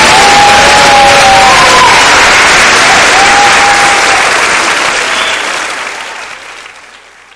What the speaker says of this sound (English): Let's give a big round of applause again for our